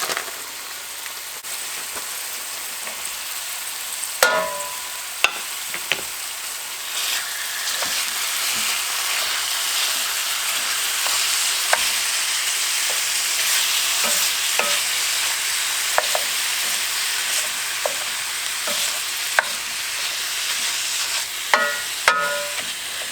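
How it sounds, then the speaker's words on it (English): Lean ground beef browning in a pan with garlic for sloppy joes, a loud continuous sizzle with scattered scraping and stirring clicks from a utensil, close up and with no talk. "I'm just going to go ahead and let the ground beef brown."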